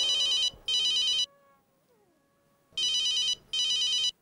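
An electronic telephone rings indoors in a home, two quick double trills, a short pause, then another double trill, bright and fairly close.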